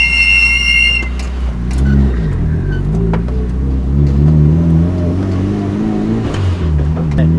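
A Mitsubishi Lancer Evolution, running rough on 91-octane fuel with a tune for Japanese fuel, accelerates and revs, its engine note rising and falling through gears, loud and close throughout.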